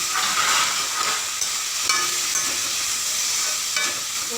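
Tomato pieces hiss and sizzle in a pan of frying onion base for a Kerala fish curry, a steady close crackle with occasional stirring scrapes and no talk.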